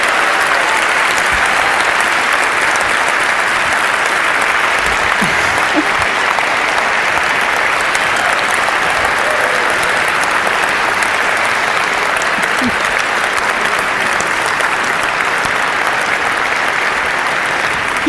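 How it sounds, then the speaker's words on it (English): A large TED talk audience applauds, dense continuous clapping that stays loud and even throughout. "He does deserve a lot of applause"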